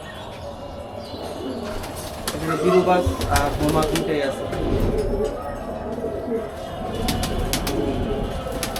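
Domestic pigeons kept on a house rooftop coo and flutter their wings, soft and fairly close, mixed with someone talking over them and occasional chirps throughout.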